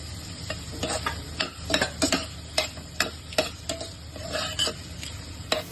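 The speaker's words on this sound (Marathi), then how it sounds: "आपण थोडासा कांदा शिजताना थोडासा मीठ टाकणार आहोत" Onion cooking in a pan with a pinch of salt, stirred by a spatula that scrapes and taps in an irregular rhythm over a soft, steady sizzle, close by and without talk.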